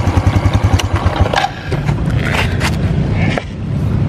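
A used motorcycle engine runs close and loud, with a steady throbbing idle pulse at first that gives way to a rougher, continuous clattering mechanical hum with a few scraping knocks.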